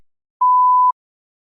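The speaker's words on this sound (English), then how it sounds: "Please begin speaking after the beep." One steady electronic tone, about half a second long, rings out in silence to cue the start of speaking in a TOEFL practice test.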